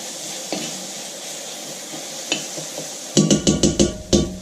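Peppers being stirred in a pan on the stove, a utensil scraping and clacking against the pan in a quick run of sharp knocks near the end, with soft sizzling and a few isolated taps before.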